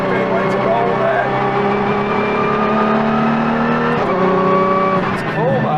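Loud hypercar exhaust popping and burbling on the overrun, a continuous engine drone with shifting tones and a brief dip before it picks up again, with no one speaking over it.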